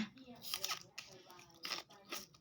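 Someone bites and crunches into a crisp piece of food, several sharp crunchy bites in close succession, with a voice speaking quietly alongside.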